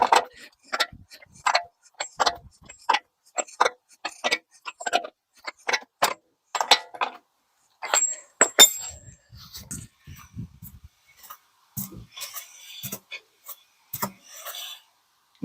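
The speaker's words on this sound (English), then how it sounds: "So I'm going to get the tire and start working on torquing this down." A front hub nut on a BMW X5 E70 is torqued down, producing a steady run of close, sharp ratcheting clicks that pause briefly and then resume in shorter bursts.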